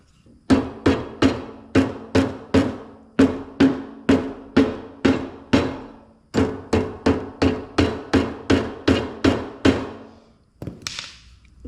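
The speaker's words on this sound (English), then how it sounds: "Now we don't want to use steel on this, on hammering, because most of this is cast." Steady, evenly spaced hammer blows on a cast John Deere 1B corn sheller, about twenty sharp close strikes in two runs separated by a short pause, with no talk.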